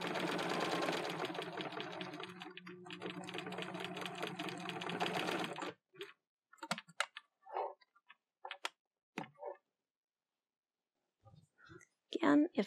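A sewing machine running a seam on a simple medieval tunic, a fast steady whirring stitch for several seconds, then stopping while a voice talks in short bursts.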